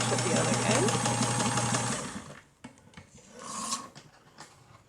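A sewing machine stitching a cloth face mask, a fast mechanical whir for about two seconds that then stops, followed by quieter handling sounds.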